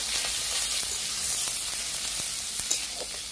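Onions sizzle in hot oil in a pan, a loud, steady frying hiss with small crackles and occasional clinks, close up with no talking.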